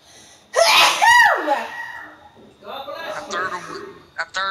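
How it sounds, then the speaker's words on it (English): A human sneeze: a sharp, loud burst with a gasping intake around it. Softer vocal sounds and laughter follow close by. "You need to go get your nose checked out because you sneeze too much."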